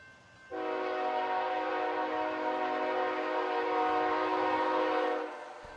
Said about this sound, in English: A northbound BNSF intermodal train passed the town of Tehachapi